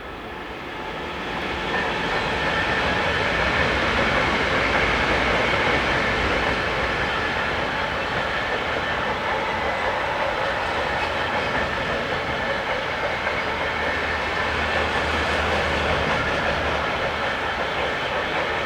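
An HS Logistics freight train hauled by locomotive 185600 passes on a German main line between Würzburg and Gemünden, a loud continuous rumble with rolling wheel noise that builds quickly and holds steady throughout.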